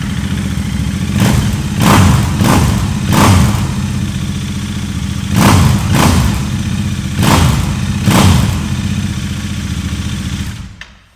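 A Royal Enfield motorcycle engine idling close by with a steady low thrum, punctuated by periodic heavier thumps and revving surges, until it cuts off abruptly at the end.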